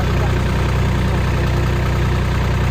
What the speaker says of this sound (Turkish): traktör başa geldi